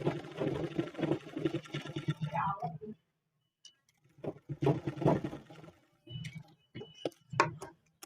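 A sewing machine stitches the side seam of a cloth langot in one steady, fast run of about three seconds, then stops, and a person talks in the pauses that follow.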